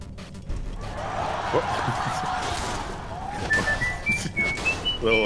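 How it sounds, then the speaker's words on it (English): A whistling critical-hit sound effect in the game Skyrim, a thin rising whistle heard briefly amid game sounds and someone talking over it. "I forgot to replace the crit sound."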